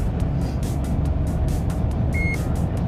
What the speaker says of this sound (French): Vous allez entendre un petit bip en dessous de chaque portique